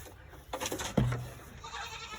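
Goats bleat at feeding time on a farm: one short, close call rises over a busy outdoor background, with softer rustling before and after.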